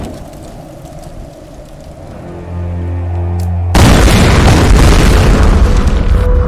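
A low rumbling hum builds for a few seconds, then a sudden loud explosive boom bursts in and gives way to a sustained roaring crackle, set off by fire at a valve in Tomb Raider: Definitive Edition.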